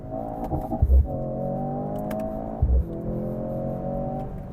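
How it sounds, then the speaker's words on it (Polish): A Mercedes-AMG C 63 S E Performance engine hums with a steady whine, rising briefly in two short revs that add a low thump, then settling back to an even drone. "a tym ale jest dźwięk silnika, który no, jak sami słyszycie,"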